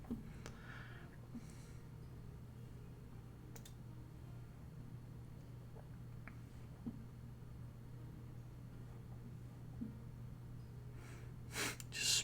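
During a tabletop roleplaying session, a person imitates a character snoring loudly. A few faint, breathy snorts come at scattered moments over a steady low hum.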